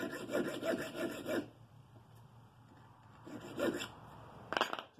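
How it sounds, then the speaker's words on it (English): Hacksaw making a small cut at a marked dovetail in the body of an English mitre plane, heard as a quick run of rasping strokes, a pause, then a few more short strokes close by. "I've marked out the centre of this dovetail and just do a small hacksaw cut"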